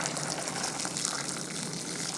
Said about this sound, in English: Now we're gonna pour in all this water.